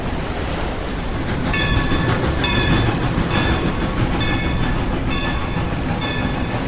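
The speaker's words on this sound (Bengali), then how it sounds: "ব্রিজের ওপর দিয়ে একটা ট্রেন চলে যাওয়ার শব্দে" A train rumbles across a bridge, a loud, close, continuous roar with rhythmic clattering wheel clicks repeating across the span, with no talking.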